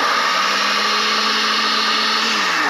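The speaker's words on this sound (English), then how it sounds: "And we're going to let this blend until it becomes creamy." A blender runs continuously, whirring raspberries into a tofu whipped topping with a loud, steady high-pitched motor whine, the tone dipping slightly near the end, with no voices.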